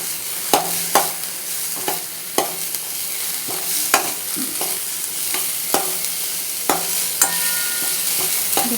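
Tomato masala fries in a pan while a spoon stirs it, a steady sizzle under sharp, regular scraping strokes against the pan bottom, close and alone.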